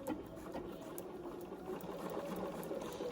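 A sewing machine stitches a foundation paper pieced log cabin block in a steady, fast, even whir with a rapid needle patter, close and unbroken throughout, with no talking.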